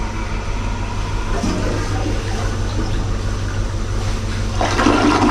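A toilet flushes after its button is pressed, a steady loud rush of water that swells near the end, close by, with no talking over it.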